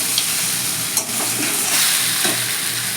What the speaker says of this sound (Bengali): মাছের মাথা আর আলু মশলার সঙ্গে দু মিনিট কষিয়ে এবার জল দিয়ে দেবো